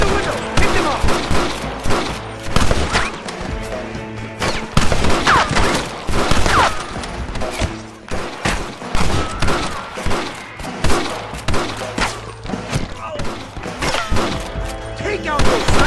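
Rapid bursts of gunfire crack and thud back and forth in a Red Dead Redemption shootout with hostage-takers at a window. The shots come dense and loud, with shouted voices over them throughout.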